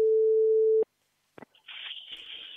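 A telephone line tone opens a recorded call: a steady, loud tone holds for under a second and cuts off, followed by a click and then hissy line noise.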